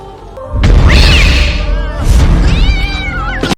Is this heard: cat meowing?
yes